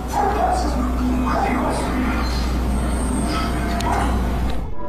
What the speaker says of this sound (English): his dogs are going crazy too, the kind of restless barking when danger is approaching